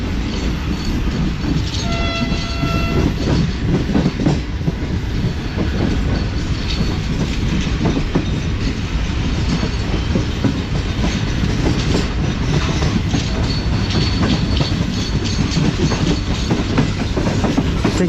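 The Shalimar Express passes through a curved station, a loud continuous rumble of rolling wheels with clickety-clack and brief horn-like tones early on, close and sustained throughout.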